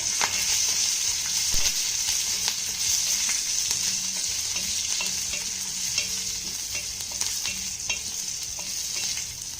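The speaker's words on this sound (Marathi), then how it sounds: "आता ही मिरची आपल्याला हलके डाग पडेपर्यंत भाजून घ्यायची आहे" Green chilies and cumin roasting in a hot pan give a steady, loud sizzle with occasional stirring clicks and scrapes throughout, close up and with no talking.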